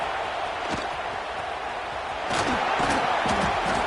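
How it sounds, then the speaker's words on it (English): Stadium crowd at a college football game during a red zone defensive stand, a broad roaring wash of noise that swells louder in the second half, with scattered shouts rising above it. "here comes the noise. This crowd is trying to inspire this defense to make a big red zone stop"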